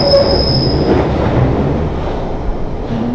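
London Underground Central line train with a loud, sustained high-pitched wheel squeal at the start, fading over the continuous rumble and rattle of the carriage in motion.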